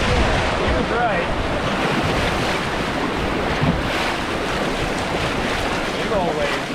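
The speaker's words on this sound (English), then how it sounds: "Big old waves here." Big waves surge and crash steadily on a volcanic-sediment shore in Alaska, a loud continuous roar of surf mixed with gusting wind buffeting the microphone.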